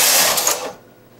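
A knitting machine carriage sliding across a row while knitting a baby bootie, a brief close rushing, whirring sweep that cuts off abruptly, with no voices.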